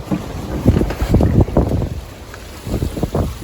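On a sailboat at sea heading to the Channel Islands, a genoa sail luffs in the wind, heard as loud, close irregular flapping and buffeting mixed with heavy wind noise on the microphone.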